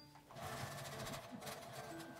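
Sewing machine stitching fabric for an insulated lunch bag, a steady close mechanical whirr with rapid needle clatter throughout the short run.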